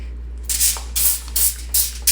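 Four short hissing bursts of cooking oil spray, evenly spaced about half a second apart, close and fairly loud over a low steady hum.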